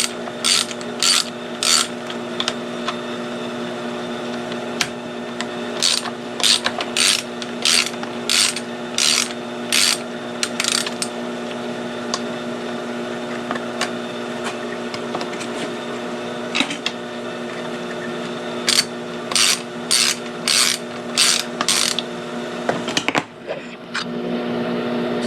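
A ratchet wrench clicks in quick repeated bursts while loosening the bolts that hold the tank on an EHCO edger, the bursts separated by pauses, close and fairly loud over a steady background hum.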